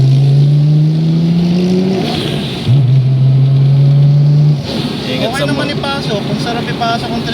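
A Nissan GTR R32 with an RB26DETT engine on a test drive, kept under 4500 rpm: the engine note climbs loudly, drops at a gear change, climbs again, then settles lower, with voices talking over the road noise.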